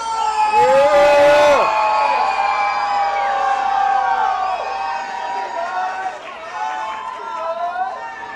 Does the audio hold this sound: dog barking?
no